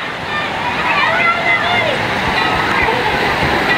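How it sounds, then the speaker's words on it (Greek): A large water bucket at a waterpark tips and dumps its load, a loud, steady rush of splashing water that fills the whole stretch, with voices calling faintly beneath it. "πότε τα ρίξει το νερό"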